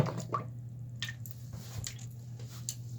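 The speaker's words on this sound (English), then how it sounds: "we can definitely see that the plunge and the Drano and all the hard work, it's working a little bit. It's draining" A clogged shower drain slowly draining after plunging and Drano, giving soft wet squishes and a few drips close by over a steady low hum.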